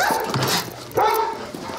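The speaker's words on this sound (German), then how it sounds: "was macht denn der Hund hier?" A police sniffer dog from a drug squad barks a couple of times at a Munich crime scene, close and fairly loud, with short yelps and some background noise between the barks.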